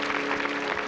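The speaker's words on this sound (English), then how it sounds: "Give them a round of applause" Studio audience applause on the 1983 British game show 3-2-1, a dense, steady wash of clapping heard close and continuous for a moment.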